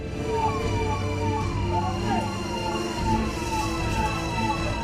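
An ambulance siren wails in repeated rising and falling sweeps over rumbling traffic at a hospital amid chaos after a blast, loud and continuous, with faint voices underneath.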